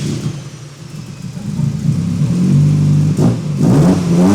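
A turbocharged Honda Civic revving on a dyno after sitting unused for two months, a loud steady engine drone that climbs in pitch and surges harder near the end, heard close from inside the car.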